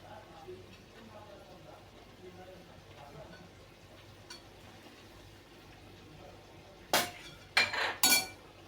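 Sprouted moong usal with fresh coriander is stirred in a pan, a quiet background giving way to a few sharp metallic clinks of a spoon against the pan near the end.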